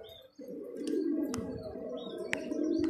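Pigeons coo in a low, continuous throaty murmur, close and steady, with a few faint higher chirps from other birds behind.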